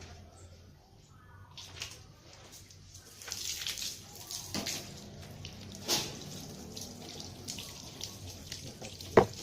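Water sprayed onto glass treated with a nano coating gives a steady soft hiss with splashy surges, moderately faint and close, while someone speaks quietly over it.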